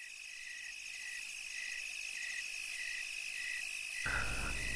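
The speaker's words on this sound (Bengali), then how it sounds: "হঠাৎ হঠাৎ ব্যাঙ ডাকছে।" Frogs call at night in a village, a regular pulsing croak repeating about every half second over a constant high insect drone, joined near the end by a louder, deeper ambient layer.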